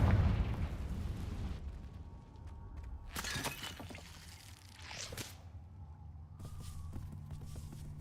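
A Confringo fire spell blasts in a Harry Potter video game, with two sharp shattering bursts that crackle and ring out over a low, rumbling game backdrop.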